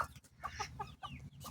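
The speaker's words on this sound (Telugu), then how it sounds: "పక్కన కోళ్ళు అయితే చూడండి, నేను వీటికి ఏదో పెట్టేశానని చెప్పేసి గుమ్ము కూడేస్తున్నాయి." Chickens crowd around feed, giving several short, close clucks in an uneven rhythm over a soft background rumble, with no talking.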